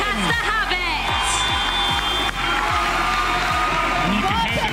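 A loud, packed crowd at a Roses 2024 university basketball game roars and whoops continuously after a last-second win, with a dense wash of cheering, shouting and rumbling movement from the stands.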